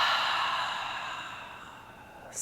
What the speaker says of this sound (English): open your mouth and make an HA